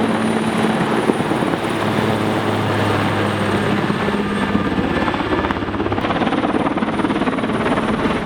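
Firefighting helicopters working over the Knysna wildfires in strong wind give a loud, continuous rotor thrum with steady blade chop, close and unbroken throughout.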